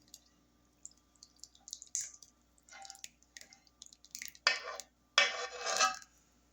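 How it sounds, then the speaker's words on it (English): Blackberry juice poured off into a cobbler dish in the kitchen, soft drips and splashes building to two short liquid pours with light clinks of the dish, close and fairly quiet. "now we're gonna pour that juice off in there."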